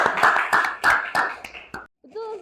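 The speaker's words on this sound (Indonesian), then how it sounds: "Tepuk tangan untuk Farel." A classroom of students claps for a classmate named Farel in scattered, uneven bursts mixed with lively voices. The clapping stops abruptly and a single voice follows briefly.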